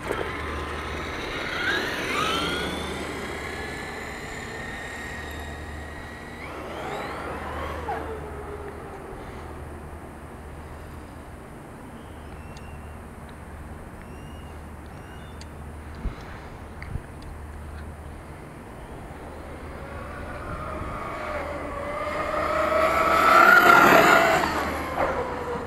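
A Traxxas X-Maxx RC truck on 8s-rated tires, its electric motor whining in rising and falling bursts as it speeds past, faint in the middle and swelling loud again near the end, with no talk.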